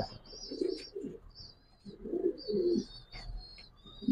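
Pigeons at a fancy pigeon farm give soft, throaty coos in two or three clustered bursts, with thin higher chirps above them, fairly close and moderately loud.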